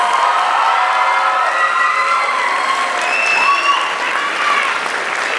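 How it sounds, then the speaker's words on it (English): A large graduation audience gives a sustained round of applause for the 2023 theater majors, steady dense clapping throughout with a few cheers and whoops rising over it. "One more big round of applause for the 2023 Theater Majors."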